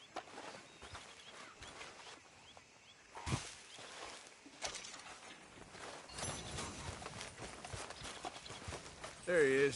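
Horse hooves clip-clop at a walking pace through the whole stretch in the video game Red Dead Redemption 2, medium close, with ambient noise and a brief voice-like tone near the end.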